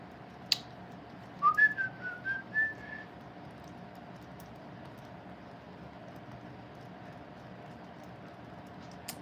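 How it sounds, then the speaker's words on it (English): A person whistles a short tune of a few bright, wavering notes over a quiet room background while working on rear links for a 1/24 scale RC car, with a soft click or two. "And whistle while I work."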